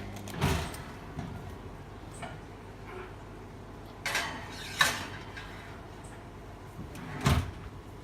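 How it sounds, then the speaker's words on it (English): An oven door opening in a kitchen as nachos are taken out, a few separate soft clunks and thumps spaced across a quiet room. "Alright, so I just got our nachos out of the oven"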